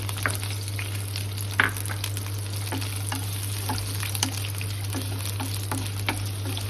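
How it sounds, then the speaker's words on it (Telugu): Capsicum frying in hot oil in a pan on a stove for a paneer curry, giving a steady close sizzle with occasional pops and stirring scrapes over a constant low hum. "ముందు క్యాప్సికమ్ వేయించేసుకుందాము."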